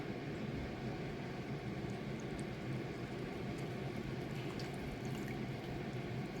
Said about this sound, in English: Now we'll go in and we'll put the 90 grams of water